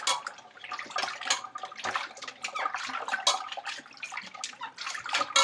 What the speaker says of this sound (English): rinse it on the fourth wash.